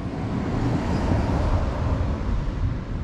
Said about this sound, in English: Again, excuse the road noise.